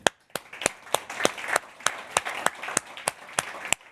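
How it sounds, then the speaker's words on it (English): Audience at an industry event clapping for their host, a short round of separate, sharp claps from a modest group, close and fairly sparse, with no voices over it. "I want to say a big thank you and a clap to our host Google"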